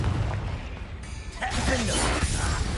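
The Confringo fire spell bursts in Hogwarts Legacy, a loud crackling blast with a whooshing rush that swells and sustains for about a second and a half, with a voice speaking over it.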